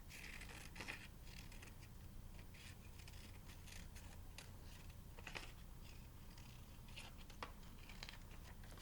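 Quiet, intermittent snips and rustles of scissors cutting paper close by, irregular in rhythm with brief crinkles between cuts.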